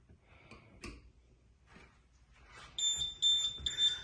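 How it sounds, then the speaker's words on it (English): After a few quiet clicks and handling noises, an ODS2 oil leak detection system's loud high-pitched electronic alarm beeps in a rapid pulsing pattern, close by. "again, you get a nice loud audible alarm"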